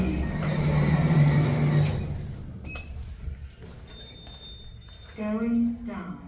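Qudos lift doors at a community hospital in Derby slide open with a broad rumbling whoosh, followed by a brief high electronic tone and then a recorded voice announcement.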